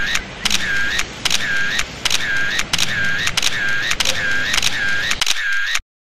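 A camera shutter fires nine times in an even, rhythmic burst, each crisp mechanical click followed by a short whirring wind, close and loud, then stops into silence.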